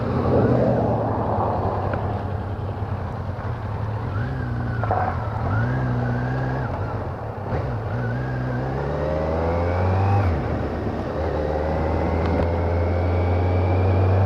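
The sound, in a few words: Kawasaki Z900 motorcycle engine while riding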